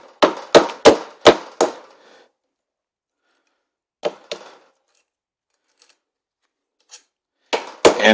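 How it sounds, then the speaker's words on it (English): Camshaft caps on a 1995 Geo Metro engine are tapped into place with a wooden handle: a quick run of four sharp knocks, a pause, two more taps, then another cluster at the end. "I've got a wooden handle here that I'm going to use to tap the caps"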